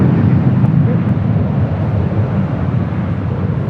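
An ABX Air Boeing 767 arriving at LAX from Cincinnati roars steadily as it lands, a broad, loud low rumble mixed with wind buffeting on the microphone, continuous throughout with no clear talk.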